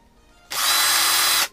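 A handheld power drill spins up and bores a hole in a small DIY floating and sinking camera rig, giving about one second of loud, steady, high whine that starts abruptly and cuts off.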